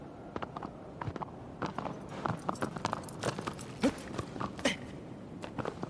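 Hooves of a horse in Shadow of the Colossus clip-clop in an uneven walking rhythm, close and moderately loud, a series of separate hard taps over a soft background.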